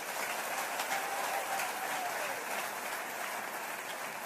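A church congregation applauds during a French-language sermon, a steady, fairly distant wash of clapping that holds evenly throughout.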